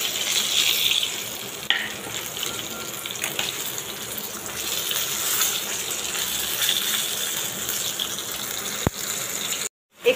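Fish fries in a pan with a steady, moderate hiss and crackle of oil, continuous throughout with a couple of brief clicks and no talking.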